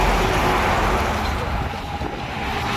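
A Hino truck rolls downhill, producing a steady broadband roar of engine and road noise with wind, heard up close, while a person talks faintly.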